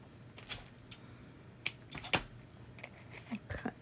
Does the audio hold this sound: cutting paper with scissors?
yes